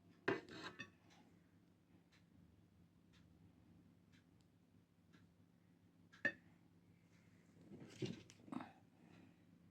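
Mango kalakand served onto a plate: a few faint, sparse clinks and taps of a serving utensil against the plate, spread out over quiet stillness, with no talking.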